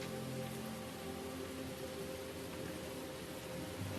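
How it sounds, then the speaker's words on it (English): Steady rain falls as background ambience during a Dungeons & Dragons tabletop session, a continuous, even hiss of drops on a surface with no breaks and no talk. "the spell is keeping the rain off"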